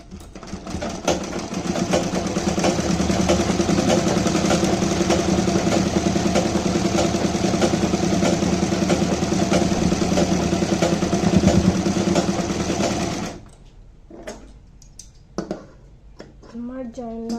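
A sewing machine stitches a gharara, whirring loud and steady for about thirteen seconds before stopping, after which someone talks quietly in Bengali.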